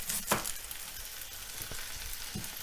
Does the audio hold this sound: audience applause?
no